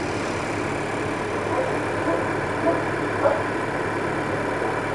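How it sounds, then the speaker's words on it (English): A car engine idles steadily after a five-second rev, a low, even rumble that stays close and constant, with a few faint clicks over it and no talking. "I rev the engine for 5 seconds"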